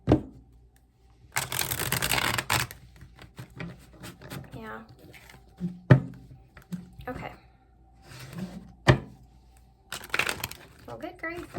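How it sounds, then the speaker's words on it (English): Tarot cards are shuffled in several quick riffling bursts, with soft handling noises in between and a voice speaking briefly. "This tarot is not wanting to shuffle for me here today."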